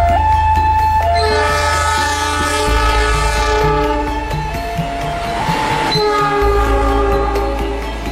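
A fuel tanker freight train hauled by locomotive CC20645 rolls past loudly and close, its horn sounding in long sustained blasts over a steady rumble and rail noise.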